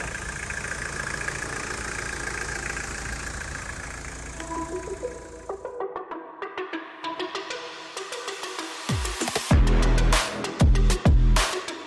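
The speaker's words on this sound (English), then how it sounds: "This is Mel driving the Delica for the first time" A Mitsubishi Delica engine idles with a steady, even hum for about six seconds, then gives way to scattered clicks and heavy thumps toward the end.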